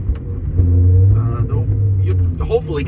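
A 2000 Ferrari 360 F1 Modena engine and exhaust drone low and steady from inside the cabin, rising briefly as it revs, with faint road noise around it.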